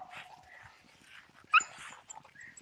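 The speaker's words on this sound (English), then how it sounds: "That's that whimpering I was telling you." A beagle whimpers and yips while hunting outdoors, a string of thin, high whines near the mic with one sharper yelp partway through, over faint rustling.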